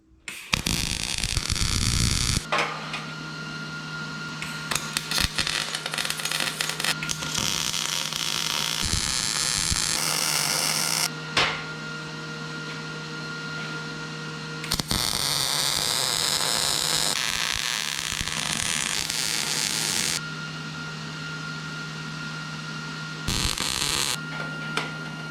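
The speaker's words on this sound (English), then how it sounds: "then I'll tack another corner and just keep squaring it up as I make tack welds" A steel sign post frame is tack welded: a loud, close electric buzz and crackle in long bursts with brief breaks between them, over a constant low hum.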